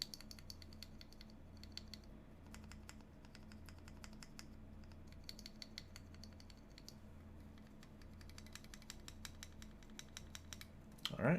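A custom-built mechanical keyboard is typed on steadily in quick bursts of clacky keystrokes, fairly faint, with short pauses between runs and a louder knock at the end.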